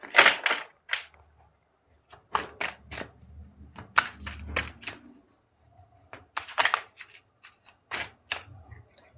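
Tarot cards shuffled and tapped close by in short bursts, crisp papery slaps and riffles separated by quiet pauses, no voices.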